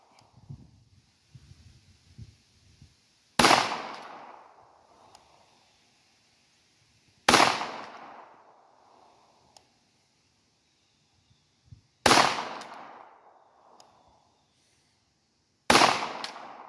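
Beretta M9-22 pistol fired at a shooting range, four sharp loud shots spaced a few seconds apart, each with a ringing decay, preceded by faint rustling.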